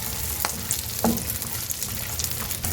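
Steady sizzling of chili peppers frying in hot oil, with a few faint clinks and stirring knocks; no voices.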